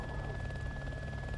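A helicopter in the video game DayZ, a steady low rotor thrum with a constant engine whine, close and loud throughout a short stretch with no talk.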